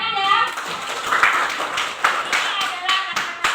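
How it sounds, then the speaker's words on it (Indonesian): A group claps along in a classroom session with children, a run of sharp, fairly close hand claps in an uneven rhythm, with voices talking over and between them. "Nah, tepuk tangan ya."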